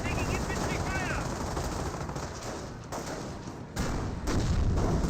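An MG42 machine gun fires in Company of Heroes in a steady, dense rattle of rapid bursts that runs almost the whole time, with brief pauses between volleys and the roar of battle behind it.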